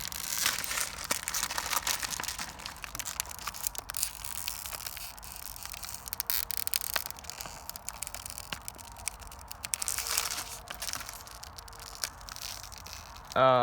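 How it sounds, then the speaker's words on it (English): Slow, careful tearing and crinkling of a paper Lego Jurassic World mini magazine while detaching attached Lego set bags, close and fairly quiet, with scattered crackles and small rips throughout. "I'll try and not rip the magazine, though that's might be a little hard"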